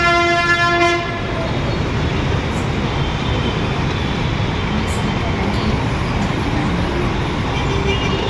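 A loud, continuous rumble of a metro train at Parade Ground station, Hyderabad, opening with a brief horn blast that gives way to steady roaring rail noise.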